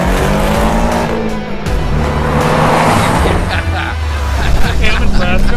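A car's engine roars loudly as it accelerates hard on the road, the pitch climbing steadily with tire and wind noise, while people talk and laugh inside the car.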